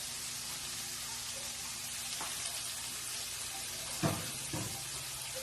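Finely chopped onions hit a buttered frying pan and sizzle with a steady, dense hiss, with a couple of soft clunks from the pan partway through and no talking.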